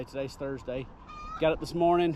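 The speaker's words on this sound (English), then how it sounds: "as you can hear the chicken laying in the background" Chickens cluck and cackle close by on a homestead that also keeps bees, a string of harmonic clucks rising to a drawn-out laying cackle, with a person talking over them.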